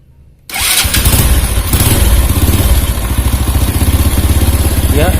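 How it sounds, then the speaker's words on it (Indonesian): A motorcycle engine fires up after a spark plug repair, catching abruptly after a moment of quiet and settling into a steady, loud, close running idle with a rhythmic mechanical clatter. "di sini motor menyala dengan baik, menandakan busi normal kembali"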